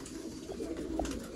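A red-eyed breeder pigeon coos nearby in a soft, low throaty murmur with a rising and falling roll, no talk.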